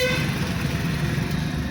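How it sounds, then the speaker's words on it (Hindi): A car horn toots briefly at the start while a learner drives at night on a road with traffic, followed by low engine and road rumble. "चलिए हॉर्न देते रहिए।"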